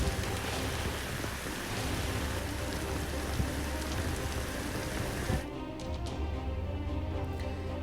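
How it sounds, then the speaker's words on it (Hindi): Torrential monsoon rain pours down in Surat as a dense, continuous roar of heavy rainfall, loud and unbroken, with the brighter hiss dropping away in the last couple of seconds. "सूरत जहां मूसलाधार बारिश हो रही है और मुश्किलें लगातार जारी हैं।"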